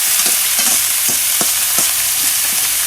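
Cabbage and pork belly are stir-fried in a hot pan, with a steady close sizzle under rhythmic scraping strokes of a spatula.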